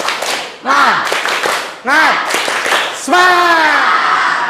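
Classroom of schoolchildren performing a rhythmic 'tepuk semangat' spirit clap, loud patterned bursts of claps alternating with chanted voices in a call-and-response pattern, close and energetic.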